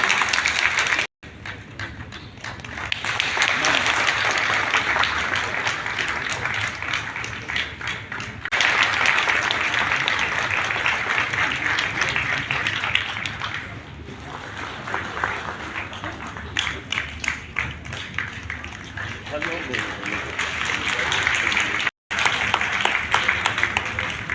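A seated audience at a formal centenary ceremony applauds in long sustained bursts of clapping. The applause breaks off briefly and then swells again, loud and dense, with little talk audible.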